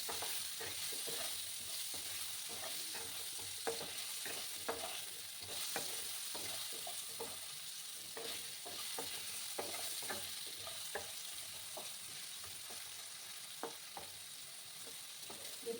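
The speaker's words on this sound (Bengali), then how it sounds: "দিয়ে আলুগুলোকে একটু লাল লাল করে ভাজবো।" Long-cut salted potato strips frying in a pan, a quiet continuous sizzle with frequent light crackles and occasional soft stirring scrapes, heard close up and fairly faint, without speech.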